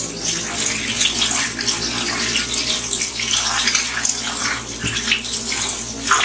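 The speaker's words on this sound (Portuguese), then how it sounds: "em água corrente, sai todo o salzinho" Tap water runs steadily into a sink while salted charque meat is rinsed under it, a loud, close, continuous splashing hiss with no speech.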